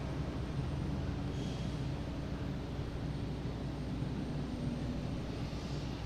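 Southwest Boeing 737 MAX 8 taking off at Boston Logan International Airport, a faint, distant, steady jet roar and rumble that holds evenly throughout with no talking.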